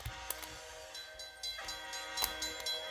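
A train in an animated chicken cartoon rumbles faintly and clatters along the track, with a few sharp whistle-like bursts over a steady hum and no voices.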